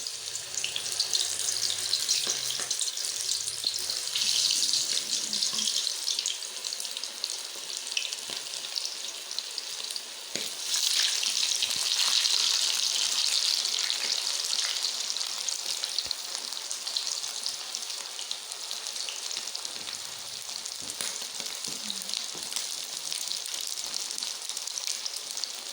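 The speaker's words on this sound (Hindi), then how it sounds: "ऑयल भी काफ़ी हमारा गर्म हो चुका है, और अब मैं एक एक पीस करके इसके अंदर डालूँगी।" Chicken pieces for chicken dhabu drop one by one into hot oil in a wok, giving a steady, loud, continuous frying hiss with crackly sizzle that runs unbroken throughout, no voices over it.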